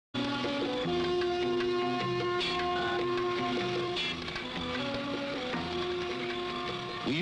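A $250,000 CNC carousel machine inletting rifle stocks at the Remington factory runs with a loud steady mechanical whine and layered tonal hum, punctuated by brief cutting bursts.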